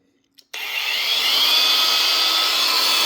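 After a brief click, a compact cordless angle grinder spins up and keeps running with a loud, steady high-pitched whine, close by and alone.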